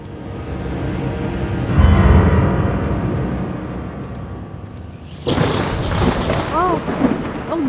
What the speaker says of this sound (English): Oh, what a storm. It just came up so fast.